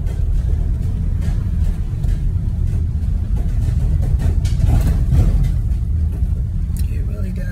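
A U-Haul truck rolling along with a continuous low engine and road rumble heard from inside the cab, someone talking over it the whole time.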